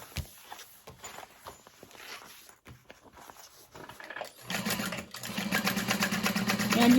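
A sewing machine top stitches a fabric bag, starting with scattered handling clicks and then running in a steady, rapid mechanical whir. The sound is close and grows louder toward the end, with no talking.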